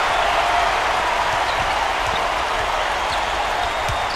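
A dense crowd roar fills an arena in the NCAA 2K8 college basketball game, Iowa Hawkeyes at Illinois Fighting Illini, a loud unbroken wash of cheering with faint bounces and squeaks beneath it and no voices over it.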